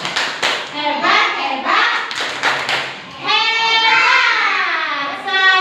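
Children clap together during a positive-culture classroom activity, a few quick claps and thumps near the start, mostly under a loud adult voice talking and cheering.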